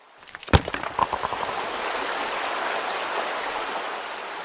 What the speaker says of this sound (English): Water comes out